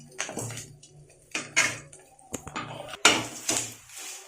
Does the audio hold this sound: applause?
no